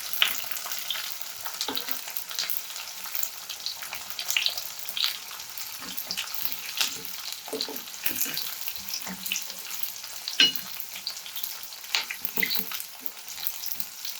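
Roughly cut medium onion frying in hot tempering oil for South Indian mango rice, a steady crackling sizzle with scattered pops and stirring clicks throughout, close and moderately loud, no voices.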